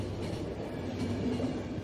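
A train in the video game Final Station rumbles as it gets moving, a steady low mechanical drone with faint rhythmic rolling beneath, continuous and moderately quiet, no speech.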